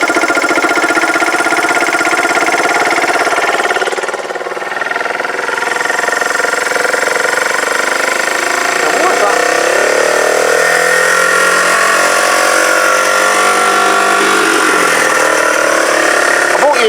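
A Kawasaki BN125 Eliminator motorcycle engine runs steadily at close range, a continuous buzzing drone with slight wavering in pitch and a brief dip partway through, no talking over it.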